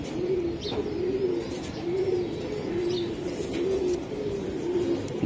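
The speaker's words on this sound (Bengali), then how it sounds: "দর্শক এই যে আরেকটা কবুতর আমি দেখাই দিই আপনাদেরকে।" Racing pigeons coo in repeated low, rolling phrases at an even rhythm, close by, with a few faint chirps over a busy background.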